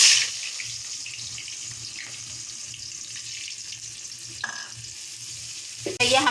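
Chopped onions fry in three spoons of hot oil in a pot for palak gosht, a steady soft sizzle with a brief clatter near the end, no talk.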